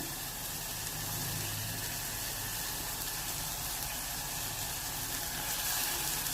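Eggplant lands in a pan of hot oil, raising a steady, dense sizzle that carries on evenly without a break and no talking over it.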